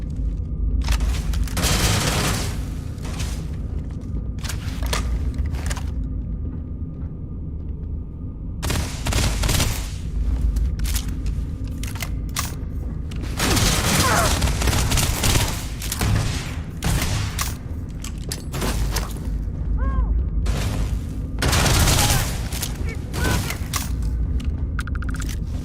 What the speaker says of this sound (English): I just threw a grenade in the cockpit.